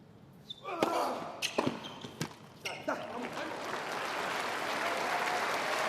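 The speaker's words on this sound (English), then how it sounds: "There's an extended applause there for that first point." A tennis crowd at the 2023 United Cup final in Perth breaks into long, steady applause after the first point, following a few sharp ball bounces at the start.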